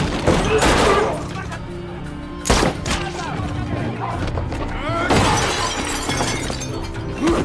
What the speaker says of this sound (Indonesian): Pertempuran dan baku tembak pun akhirnya terjadi.